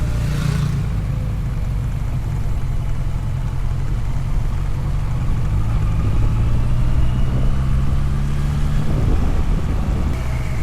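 A 2023 Honda CB 1100 RS Final Edition motorcycle touring on the road between Dieng and Yogyakarta, its engine a steady loud drone with wind rush throughout and slight pitch shifts as it rides.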